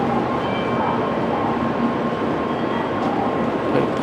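A Shinkansen bullet train at a Tokyo Station platform gives off a steady, loud mechanical rumble and hum, with a constant broad roar and faint tonal whine throughout and no speech.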